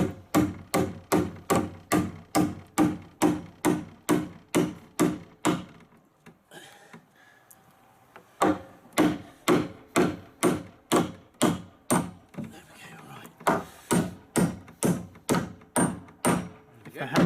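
Hammer blows strike wood during a treehouse build, loud and close in quick regular runs of about two per second, with a short pause partway through before the steady pounding resumes.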